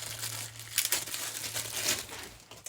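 Plastic packaging crinkled and peeled off a Milwaukee M12 2 amp hour battery, soft close rustling and crackling in uneven bursts, faint and without talk.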